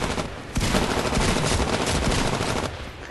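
Rapid shotgun and automatic gunfire in the first-person shooter Titanfall, a dense, loud, continuous burst of shots with a slight gap at the start and a fade near the end.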